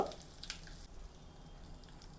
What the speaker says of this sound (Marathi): हे बघ आता मोहरी तडतरायला लागली आहे